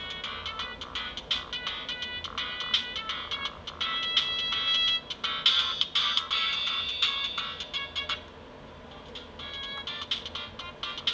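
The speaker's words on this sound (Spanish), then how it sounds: "Son tonos MIDIs." An old mobile phone plays a MIDI ringtone, a bright electronic melody of short beeping notes at moderate volume over a faint background hiss. The tune stops briefly near the end and then resumes more quietly.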